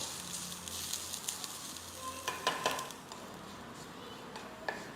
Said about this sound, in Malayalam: നല്ലൊരു ബ്രൗൺ കളർ ആവുന്നതും വരെ തേങ്ങ വറുത്തെടുക്കാം.